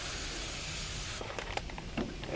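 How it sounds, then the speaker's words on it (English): Brake cleaner sprayed onto a new front brake rotor for a 2003 Ford Expedition, a steady close hiss of aerosol that cuts off partway, followed by faint small handling clicks. "use a brake cleaner,"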